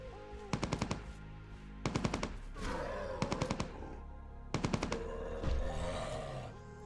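Bursts of automatic gunfire from the online game Entropia Universe, four rapid rattling volleys of four to six shots each, spaced a second or so apart over a low ambient hum, with no talking.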